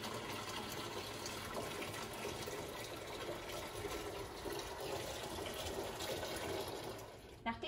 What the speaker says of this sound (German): Jetzt läuft das ganze Wasser, welches sich hier im Tank befindet, einmal in den Eimer.